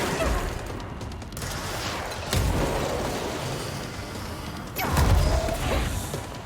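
Gunfire in the game Control comes as several heavy, booming shots and bursts over a dense, continuous background of combat noise and mechanical clatter.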